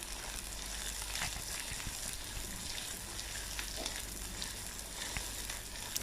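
Sliced onion sautés in hot oil with dried and green chilies in a pan, giving a steady, close crackling sizzle with occasional stirring scrapes throughout.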